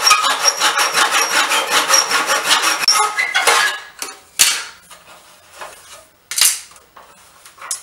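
A hand saw cutting through baseboard trim without a workbench, rapid rhythmic rasping strokes for about four seconds, then a few scattered scrapes and knocks, close and fairly loud.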